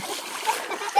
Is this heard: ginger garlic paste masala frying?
no